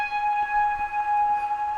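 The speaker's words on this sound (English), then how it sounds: "The next and final thing is a guitar pluck" A soft, isolated guitar pluck rings as a sustained, bell-like tone with a few clear overtones, used as a gentle layer in an existential cyberpunk lo-fi hip-hop track; it plays alone without voices.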